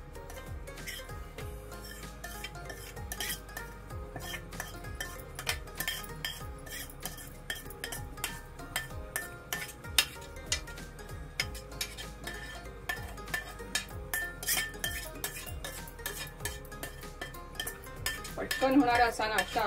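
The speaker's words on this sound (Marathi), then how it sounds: "आपण रवा भाजलेला काढून घेऊया एका डिश मध्ये।" Roasted semolina for upma is scraped from a pan into a dish, with a long run of close metallic spoon clinks and scrapes against the pan and plate, steady and busy throughout, with faint talk in the background.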